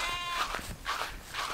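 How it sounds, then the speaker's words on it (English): Goat bleating at a farm animal pen, a few wavering bleats in quick succession, fairly close and moderately loud over faint background noise. "I hope there ain't a goat stuck in there."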